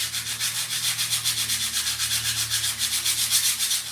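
Paint on a piece being sanded by hand with 120 grit sandpaper over a prairie gray finish, a loud, steady rhythmic scrubbing with quick back-and-forth strokes throughout.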